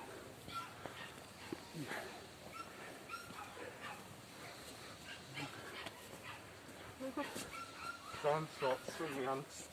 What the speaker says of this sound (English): dogs are hungry